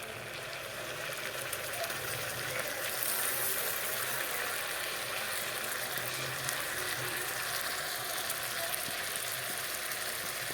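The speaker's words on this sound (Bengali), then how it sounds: "পেঁয়াজগুলো লাল করে ভেজে নিই তারপর ফিরে আসব মশলাগুলো দিয়ে দেব" Onions and spices for egg curry fry in a pan with a steady, even sizzle lasting throughout, moderately close and without talk over it.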